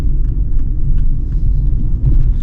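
A Ford Mondeo Ghia V6 24v rumbles steadily in a low, throaty idle-like drone, close and continuous for a couple of seconds with no voices over it.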